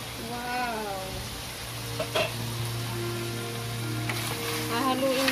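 Beef mechado is stirred and sautéed in a pan, with a soft, continuous sizzle and a few scraping stirs. A person talks over it, and a steady low hum runs underneath.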